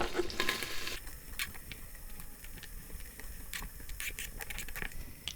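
Chopped onions sauteing in melted butter in an Instant Pot, a steady soft frying sizzle with occasional stirring clicks and scrapes, close and continuous, with no talking.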